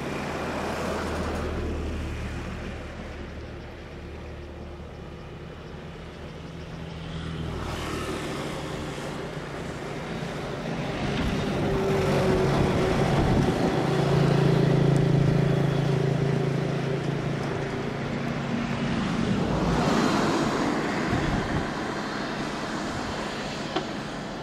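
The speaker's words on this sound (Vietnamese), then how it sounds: "chiếc máy bay đang đậu ở đầu đường băng 29L chạy đà cất cánh" A white Airbus A321 takes off from runway 29L at Noi Bai airport, its broad jet roar swelling to a loud peak midway before easing off. The rumble is steady, with no voices.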